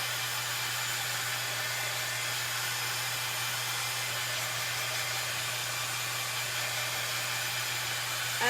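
A hair dryer blows on wet paint on a Dollar Tree tray, making a constant close whooshing airflow with a steady motor hum, uninterrupted and without talking.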